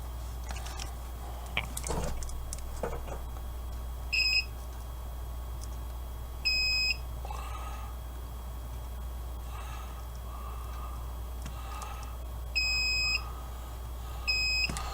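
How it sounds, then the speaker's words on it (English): A continuity tester beeps in short, steady tones as its probes touch the contacts of an HTX 252 microphone, about four separate beeps spread through a quiet room with a low hum underneath. "throw a continuity tester on them and see if they're touching each other"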